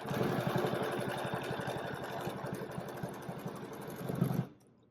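A sewing machine stitches a quilt in the ditch along a ruler, a rapid steady mechanical chatter close by that stops abruptly near the end.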